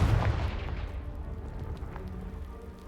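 A Confringo blast spell cast in Hogwarts Legacy bursts with a loud booming impact at the start, then a crackling, rain-like rumble of debris that slowly fades away, with no voices.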